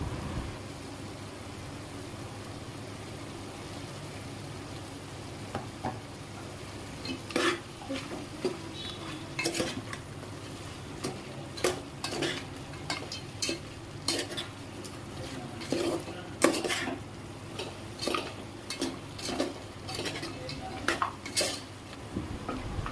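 A spoon stirs mutton curry seasoned with salt in a metal pot, scraping and clinking in irregular bursts over a soft, steady sizzle, with no voices.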